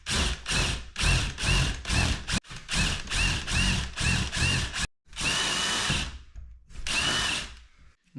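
Power drill with a 3/8 bit boring holes in a door, close and loud, in repeated short whirring bursts that stop and start, then two longer runs near the end.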